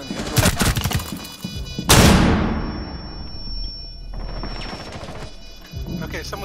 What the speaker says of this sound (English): someone's sniping from outside garage